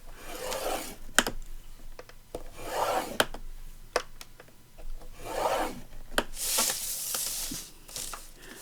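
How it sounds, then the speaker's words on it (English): Paper for a handmade journal is scored and creased with a tool, giving repeated rasping, rubbing strokes in short bursts, close and fairly quiet, with no talking. "I'm going to crease down it at 1/2 inch"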